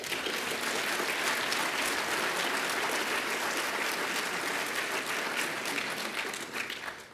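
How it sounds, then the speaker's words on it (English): Sustained audience applause at a climate conference fills the room steadily and loudly for several seconds, with no speech, tapering slightly at the end. "He deserves another round of applause."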